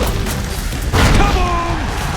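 Dunk explosion effect from the 2010 NBA Jam basketball video game, a sudden loud boom bursting out about a second in over busy game sounds and crowd noise, with an excited announcer voice nearby.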